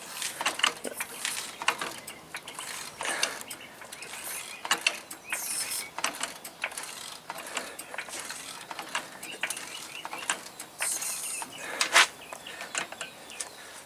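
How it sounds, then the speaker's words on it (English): A Harbor Freight jack lifting a big truck parked slightly downhill for a wheel stud replacement, with repeated close ratcheting clicks and squeaks in steady pumping strokes and faint birds in the background. "I jacked it up with one hand, and I'm not a very big guy, so I don't think I over stressed the jack at all."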